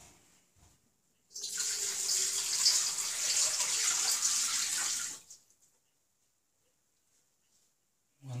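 Cold water gushes from a tap into a sink for about four seconds, a steady close hiss that starts abruptly and cuts off, with near silence on either side, while preparing peppermint water by steam distillation.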